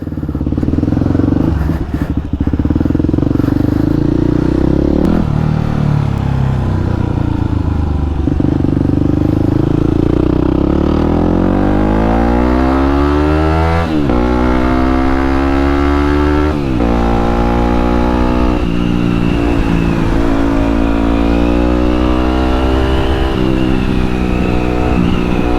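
A Yamaha WR250X motorcycle engine runs loud and steady throughout, its pitch climbing and dropping as the rider shifts and accelerates, close up.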